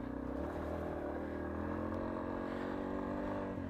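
A Yamaha XT250 motorcycle being ridden on dry, loose terrain, its engine running steadily and close with a constant droning hum and slight rev changes, no talking.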